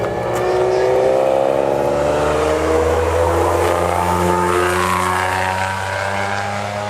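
A Renault Clio 3 RS with a naturally aspirated 2-litre engine and a green sport air filter revs loudly and steadily, with rising and falling harmonics sustained close by throughout, no talking over it.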